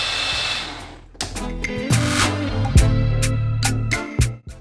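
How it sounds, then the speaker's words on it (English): A countertop blender whirring through pineapple, kiwi and juniper berries with sugar and water, loud and close, the motor pitch shifting and dropping as the fruit breaks down, ending with an abrupt stop. "Cover and blend this until nice and smooth."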